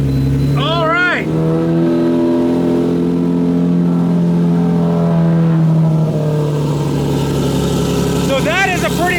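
A Lamborghini with a modified exhaust revs hard, its deep engine note climbing and holding loud and close, with short bursts of a voice over the revving near the start and end.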